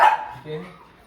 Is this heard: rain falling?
no